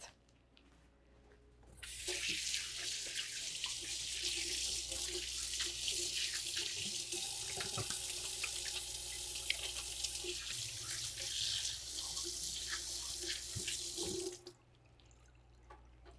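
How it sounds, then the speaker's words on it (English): Running kitchen sink tap while hands are washed, a steady loud splashing rush that starts abruptly, holds for about twelve seconds with small splatters, then cuts off cleanly. "I'm going to wash my hands as soon as I finish this"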